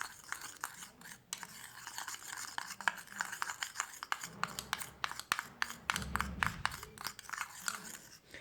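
Homemade face pack ingredients being stirred together in a small bowl, with a steady series of soft clicking, scraping strokes of a spoon, close and quiet with no talking.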